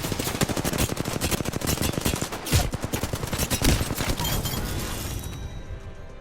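Rapid automatic gunfire from Apex Legends, a dense, loud stream of shots with a couple of heavier impacts midway, tapering slightly toward the end with no talking.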